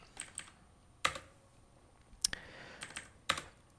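Computer keys tapped in short, sparse bursts with a few louder, sharper strikes, quiet and close, as a temperature value is entered.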